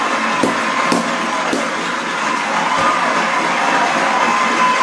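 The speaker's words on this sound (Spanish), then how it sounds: "Vamos, vamos, aplaudan al gran Víctor." A studio audience cheers and claps for a guest, a dense, steady wash of noise with a few sharp cracks standing out, close and fairly loud, with no one speaking over it.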